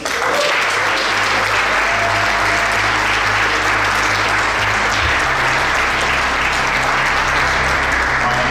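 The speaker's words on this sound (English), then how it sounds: "One more round of applause for these guys." An audience applauds steadily after a business speaker session, a loud, continuous wash of many hands clapping that holds evenly throughout with no voices on top.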